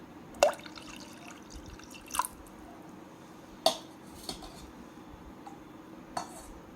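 Water dripping and splashing into a kitchen vessel while raw mango drink is prepared, with a few distinct soft drips and clinks spaced apart over a quiet background.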